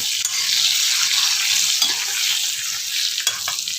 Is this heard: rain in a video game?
no